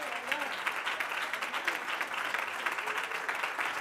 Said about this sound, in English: you're going to have to quit with your applause for a minute